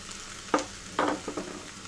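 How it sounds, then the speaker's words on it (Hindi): Sabudana khichdi mixed gently in a pan over low gas, two or three soft scraping stirs over a faint steady sizzle, close and quiet, with no speech. "अब हमने ये इसमें जो ये साबूदाना करके था वो ऐड कर देंगे।"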